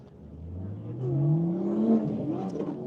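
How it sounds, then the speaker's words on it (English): A race car at a Grissom AFB event pulls away under traction control, its engine note rising steadily in pitch and loudness over a few seconds, heard fairly close with no voices. "Traction control kicking in as they're trying to turn the steering wheel and accelerate away"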